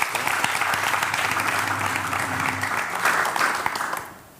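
An audience claps steadily and densely throughout at a church choir broadcast, with the applause sustained at moderate loudness before fading out at the very end.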